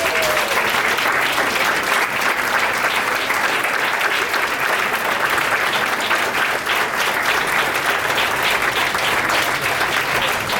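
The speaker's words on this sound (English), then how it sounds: "Join me in another round of applause." At a hospital's cancer survivors' day event, an audience applauds loudly and continuously, a dense wash of clapping that stays even from start to finish with no speech over it.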